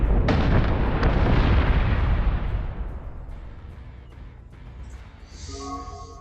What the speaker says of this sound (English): Fighter squadron is taking fire.